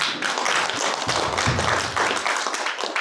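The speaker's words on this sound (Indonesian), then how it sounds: "Mungkin itu kita berikan aplaus buat" An audience at a new-entrepreneur training session claps steadily for three seconds, a dense, near patter of many hands with little voice beneath it.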